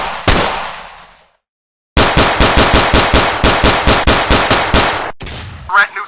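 Gunfire sound effects from the video game Counter-Strike: one loud single shot dies away, then after a short silence comes a fast automatic burst of evenly spaced rounds, ending with a brief trailing blast.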